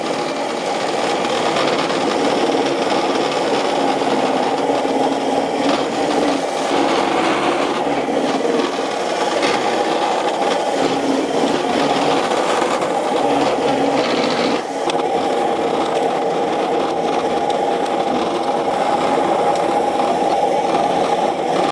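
A powered weed removal machine with a spinning head pulls weeds from concrete, giving a loud, continuous motor whir with grinding and scraping that holds steady throughout.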